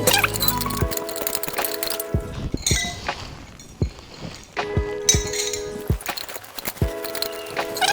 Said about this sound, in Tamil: இப்போ லேசாக கலந்து விட்டு